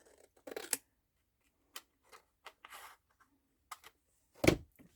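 Scissors snip along a line on paper in a few short, separate cuts with quiet gaps between them, the last cut the loudest and closest.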